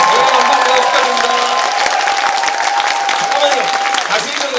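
An audience at a live public broadcast show in Korea bursts into loud, sustained applause and cheering, with a voice speaking over the clapping.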